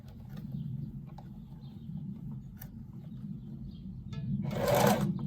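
A sewing machine backstitches the corners of a ribbon tutu with a steady close mechanical whir, ending in a brief louder burst.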